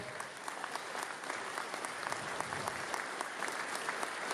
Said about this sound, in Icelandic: Sigurður Alfonsson, gefið hann gott klapp.